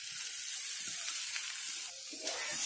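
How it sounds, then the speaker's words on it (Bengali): Raw papaya and potato pieces with chana dal fry in a pan, giving a steady close sizzle with faint scraping from stirring throughout. "পেঁপে আলু এগুলো সব আমি ভেজে দিচ্ছি"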